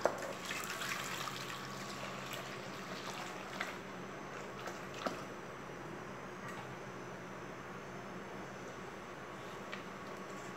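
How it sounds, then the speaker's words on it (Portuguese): Hot water being poured into a container while making homemade detergent, a steady trickling, splashing flow running throughout at a low, even level, with occasional small drips and clinks, and no talking. "Eu vou jogar água aqui dentro para aproveitar e lavar"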